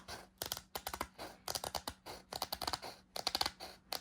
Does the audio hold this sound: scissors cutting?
yes